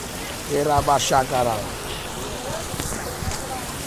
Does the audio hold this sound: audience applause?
no